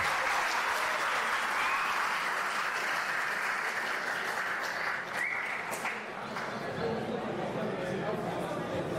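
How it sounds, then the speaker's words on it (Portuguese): A crowd gives sustained applause for about nine seconds, a thick steady roar of many hands, with voices chattering and calling out underneath. "Uma salva de palmas então pro Ronaldo, pessoal da Mútua."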